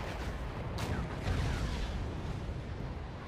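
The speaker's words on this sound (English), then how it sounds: "Lord Link has some artillery firing." Artillery fires in the Cold War real-time strategy game Wargame: European Escalation, a dense continuous rumble of distant blasts with one sharper report early on.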